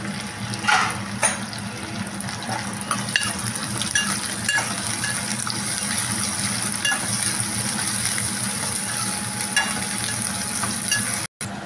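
Green chillies and onions fry in a pan with a steady close sizzle, punctuated by scraping stirs and small clinks; no voices.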